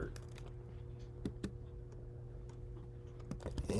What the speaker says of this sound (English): So let's type in our prompt.